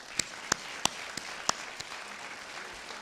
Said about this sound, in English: this round of applause, I think, is worthwhile having.